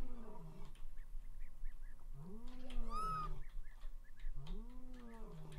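Repeated high, arching yelping calls of a fish eagle in a Roblox game, several cries rising and falling in a rhythmic series, fairly faint over a soft background hum.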